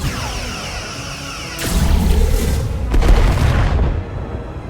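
Starship weapons fire in the space combat game Star Trek: Resurgence, heavy booming blasts with whooshing energy that swell loud and hold, a second shot following about a second later.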